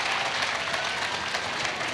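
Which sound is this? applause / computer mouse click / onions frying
applause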